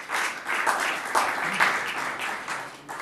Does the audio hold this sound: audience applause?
yes